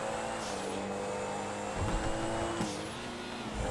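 A Pfister Astrale car engine in GTA Online drones loudly with a steady high-pitched whine, shifting slightly in pitch partway through.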